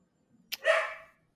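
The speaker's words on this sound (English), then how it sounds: "I'll edit the puppy screams later." A puppy lets out one short, sharp bark, close and fairly faint, with a small yelp just before it.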